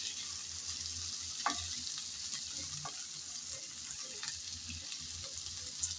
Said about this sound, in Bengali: সেগুলো এখন নেড়ে চেড়ে ভেজে নেব।